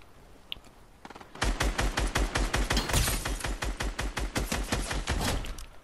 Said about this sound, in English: I think someone else is shooting around here